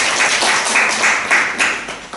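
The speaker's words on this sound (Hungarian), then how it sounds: "És egy nagy tapsot kérlek." A seated audience at a meditation evening breaks into broad applause, dense and steady hand clapping that rises and falls in waves, fairly close and loud with no speech over it.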